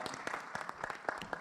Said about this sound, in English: let's give Dr. Mujtaba a round of applause